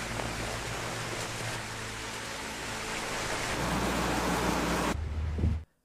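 Steady rain pours in a film scene, a dense continuous hiss that swells slightly before cutting off abruptly, with no voices.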